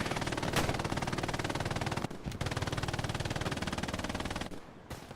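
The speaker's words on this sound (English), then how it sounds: "More MG42 rounds going over to our right from Jedmiel." Rapid, continuous MG42 machine gun fire in the video game Hell Let Loose, a dense sustained burst of rounds with brief pauses, fairly distant and rolling steadily.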